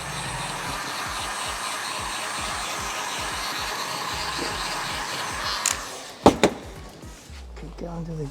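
A heat gun blows a steady, loud whirring hiss onto fresh boat trim, then cuts off with a few sharp clunks near the end; someone talks over the hum.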